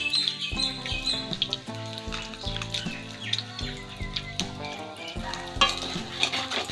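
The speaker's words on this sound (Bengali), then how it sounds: "জিরে লঙ্কাটা ভাজা ভাজা হয়ে গেছে" Dried red chillies and cumin sizzle in hot oil for tempering, a steady frying crackle with stirring scrapes on top and no voices.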